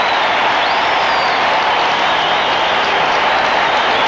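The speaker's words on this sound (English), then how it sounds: "Now you hear this crowd, and they are bound and determined to make Dave Parker feel welcome." A baseball stadium crowd on opening day 1984, Reds versus Mets with the bases loaded, cheers and applauds in a dense, loud, continuous roar that fills the whole stretch.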